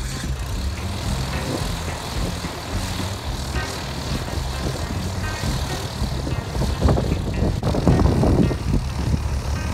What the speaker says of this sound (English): The first step of the day was to start the engine and get ready to go.